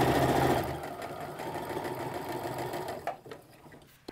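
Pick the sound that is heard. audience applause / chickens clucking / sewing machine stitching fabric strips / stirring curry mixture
sewing machine stitching fabric strips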